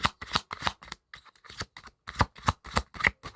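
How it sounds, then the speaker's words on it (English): Rapid bursts of playing cards being shuffled close up, crisp riffling pulses in quick succession with a short pause midway before shuffling resumes. "then I'll shuffle one more time"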